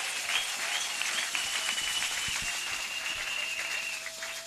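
A church congregation applauding during a French-language sermon: a faint, distant wash of clapping that holds steady for several seconds, with a sustained tone underneath.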